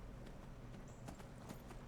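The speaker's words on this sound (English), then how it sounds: "my horse is having a hard time around the rocks and the icebergs there" Horse hooves in Skyrim clopping steadily across rocky, icy ground, a quiet, even clip-clop rhythm with faint background ambience and no voices.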